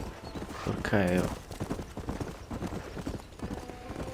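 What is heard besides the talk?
horse hooves clip-clop in video game Red Dead Redemption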